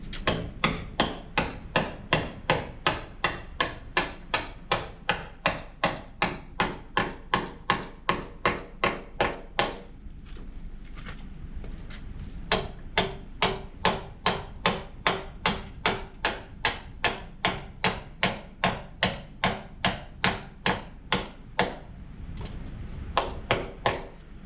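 Timber being hammered into undersized holes on a balcony build, a fast, steady series of sharp ringing hammer blows, close and loud, with a brief pause midway before the strikes resume.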